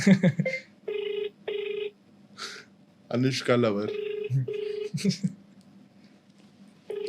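A phone call rings out unanswered, with repeated ringback tones in short regular bursts and someone talking over and between them.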